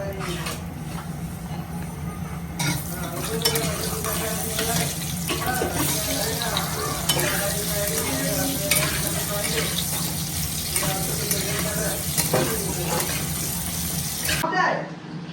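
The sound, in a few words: potatoes frying in oil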